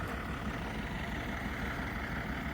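Truck delivering a septic tank pulls in and idles at a construction site driveway, a steady low diesel rumble heard at a distance without voices.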